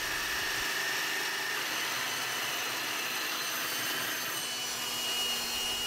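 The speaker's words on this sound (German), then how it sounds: "die ich anschließend mit einer Lochsäge an meiner Ständerbohrmaschine ausbohre" A hole saw chucked in a benchtop drill press bores an extraction opening into wood, giving a steady, loud grinding and whirring cut that continues without pause throughout.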